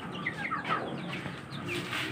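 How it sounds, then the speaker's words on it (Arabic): Three-day-old Baladi and Fayoumi chicks peep continuously, with many high, sweeping chirps overlapping at close range over a soft background murmur. "ودول برضو الفراخ الفيومي اللهم بارك اللهم بارك"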